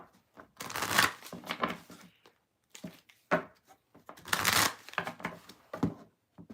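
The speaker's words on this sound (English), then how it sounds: "one more deck to shuffle" A deck of tarot cards being shuffled in a few separate bursts, crisp riffling and slapping close by with short pauses between, no voices.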